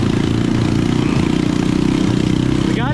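A mini Jeep's small engine runs in gear through a swamp, a loud, close, steady chugging drone with an even mechanical pulse and no letup.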